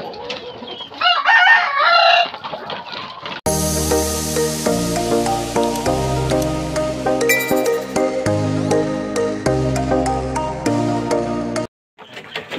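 Fighting roosters kept as game fowl cluck and crow in a short burst at the start, then loud music takes over for the rest.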